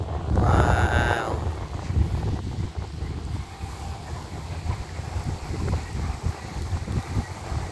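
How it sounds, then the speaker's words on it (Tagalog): Wind at a beach in Dubai near Jumeirah and Atlantis, with light drizzle while cycling: a strong gusty blast buffets the microphone at first, then a steady rushing wind continues with fluctuating gusts. "mahangin. Medyo naambon-ambon. At kami nagbabike-bike lang dito. So mahangin lang siya."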